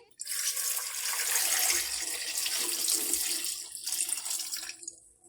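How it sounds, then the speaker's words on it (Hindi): Two glasses of water pour steadily into a pan of washed plums (aloo bukhara) for chutney, a continuous splashing stream lasting about five seconds before tapering off. "अब हम इसमें 2 गिलास पानी ऐड करेंगे।"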